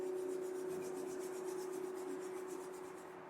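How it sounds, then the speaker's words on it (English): Two hands rubbing briskly together, a close, fast rasping friction that runs steadily for about three seconds and fades slightly at the end. "Bring your hands to your heart and rub them together."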